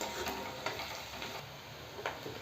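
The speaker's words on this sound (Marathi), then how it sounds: "आपल्याला कांदा हा लालसर रंग येऊजेपर्यंत तळायचा आहे आणि सतत याला हलवत राहायचं आहे" Onions fry in a pan and are stirred constantly until they turn reddish. A steady close sizzle carries scattered scraping clicks from the spoon, with no voices.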